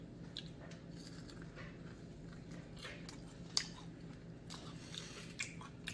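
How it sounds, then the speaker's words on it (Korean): Someone chews a bite of garlicky chicken fried in a cast-iron cauldron, with soft wet mastication and occasional crisp crunches close to the mic over a steady low room hum, no talking. "부분을 먹어보겠습니다"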